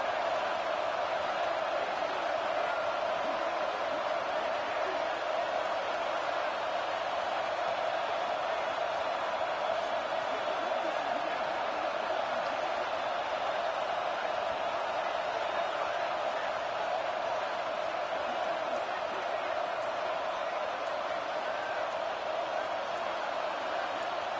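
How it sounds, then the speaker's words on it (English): A packed Alabama college football stadium crowd roars on third down during a game against Texas A&M, a dense, continuous wall of noise that holds steady at full volume throughout. "The Tide crowd rolling noise down on the Saban field on 3rd down."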